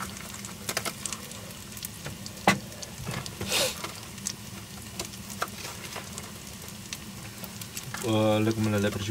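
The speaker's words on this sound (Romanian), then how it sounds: "Legumele le prăjim în ulei?" Vegetables frying in oil over a bushcraft campfire give a steady, moderately close sizzle and crackle throughout, with occasional clatter and a brief voice near the end.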